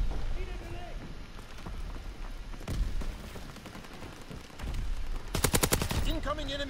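Gunfire and incoming mortar fire in the World War II shooter Call of Duty WW2, with sustained rattling shots and impacts throughout, building to a loud burst of rapid fire near the end.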